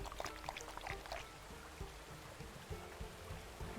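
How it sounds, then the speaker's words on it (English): Waterfall in the WolfQuest wilderness, a faint, steady pouring and splashing rush of water that continues without a break and carries no voices. "They happen to be at her favorite waterfall place"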